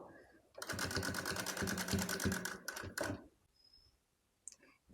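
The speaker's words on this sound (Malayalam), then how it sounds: "കൂടെ പതിച്ചൊരു സ്റ്റിച്ചും കൂടി ഞാൻ കൊടുക്കുന്നുണ്ട് കേട്ടോ" A sewing machine stitching a short top for a baby, running in a close, steady rapid chatter for about two and a half seconds, then slowing with a few last stitches before stopping.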